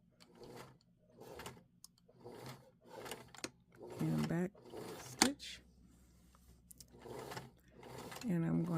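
A sewing machine back stitches while a zipper is sewn into a pair of jeans, running in short rhythmic mechanical bursts and clicks, up close, with a person speaking between and over the stitching.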